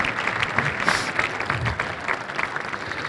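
An audience at a Chinese New Year celebration applauds, sustained crowd clapping of moderate loudness with individual claps standing out, steady throughout and not covered by speech.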